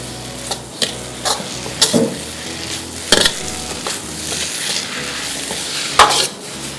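Chicken being tossed and stir-fried with light soy sauce and chicken powder in a hot wok: steady sizzling and frying with repeated sharp scraping and clanking strokes of a utensil against the pan, close and loud.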